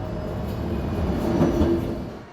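A Buffalo metro rail train runs along a city street, giving a steady rumble that swells slightly near the middle and then fades, with no voices over it.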